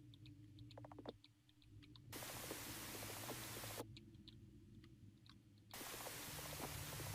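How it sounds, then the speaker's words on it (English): White noise static from the video game Hello Charlotte, a broad hiss that switches on and off in two bursts amid quiet game clicks and faint background sound. "Yes, I hear the white noise."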